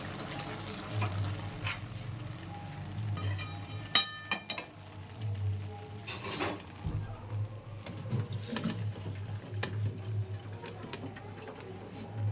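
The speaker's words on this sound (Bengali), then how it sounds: "তো মোটামুটি সিদ্ধ হয়ে গেছে, এবার জলটা ঝরিয়ে নেব।" Water is drained off boiled food in a home kitchen, giving an uneven, splashy patter broken by sharp clatters of pots and utensils, close and moderately loud.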